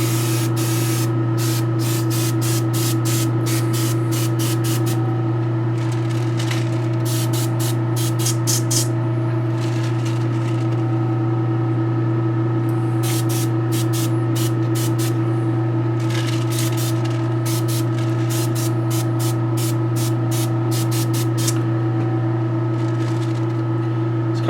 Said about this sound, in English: Spray it out a little.